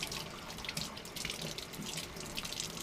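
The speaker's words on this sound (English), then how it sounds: "make sure your water is as hot as you can get it so it flushes everything out." Hot water pours steadily from a tap into a sink to rinse Glock G-19 pistol parts, a close, continuous splashing hiss with no speech.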